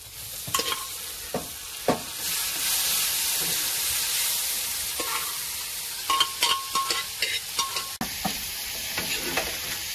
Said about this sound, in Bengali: তার আগে আমি ছোলাটা ভেজে নিচ্ছি।